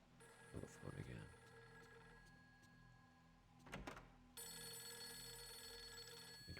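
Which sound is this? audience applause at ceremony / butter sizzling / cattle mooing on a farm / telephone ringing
telephone ringing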